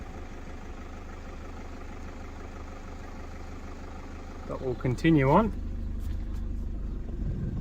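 A car engine hums steadily as the vehicle drives slowly into a car park at a swamp wetland near Geelong, with someone talking over it throughout and a short burst of louder voice midway.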